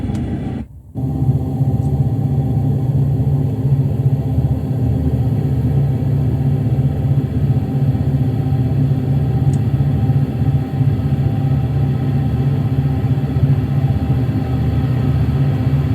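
Diesel locomotive engines in Train Sim World 2, with the rear units working hard; a steady low engine rumble and drone holds throughout, after a brief dip at the start, with no speech.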